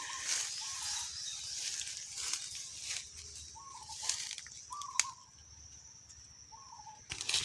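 Birds in a forest hunting spot, with several short chirps and calls scattered over a dull outdoor background and a rustle or flutter, moderately distant and fairly quiet, no talking.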